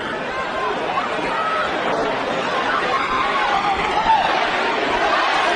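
A sold-out boxing crowd in a Las Vegas arena for Manny Pacquiao versus Keith Thurman keeps up a dense, steady roar of chatter and cheering, loud and continuous throughout.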